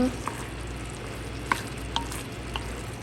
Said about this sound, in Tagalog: Ilalagay na natin yung tomato paste. Yan. Haluin lang natin.